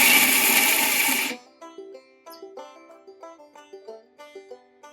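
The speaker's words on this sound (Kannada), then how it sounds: "ಈಗ ನಾನು ಮಿಕ್ಸಿಗೆ ಹಾಕಿದ್ದೀನಿ" A loud, harsh whirring of a mixer grinder grinding peanuts runs for over a second, then cuts off abruptly, leaving a soft melodic tune playing alone.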